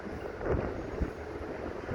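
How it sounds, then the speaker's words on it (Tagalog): Strong gusting wind buffets the microphone outdoors under dark clouds ahead of a typhoon, a steady broadband roar with heavier gusts near the middle, no talking. "Ang lakas ng hangin, guys."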